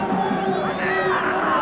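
Large football stadium crowd at a 1993 Champions League match between Olympique de Marseille and Rangers roaring and chanting steadily, a dense continuous wall of cheering.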